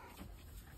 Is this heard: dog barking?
yes